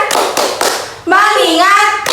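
Primary-school children in a fifth-grade classroom play the tepuk fokus clapping game, with a few sharp, rhythmic claps in quick succession followed by children's voices chanting loudly together.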